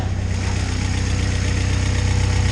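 A 2001 Honda Prelude with an F20B engine swap, Skunk2 Pro Series intake manifold, AEM cold air intake and DC Sports header idles steadily, a close, even mechanical hum with a low rhythmic pulse and no voices.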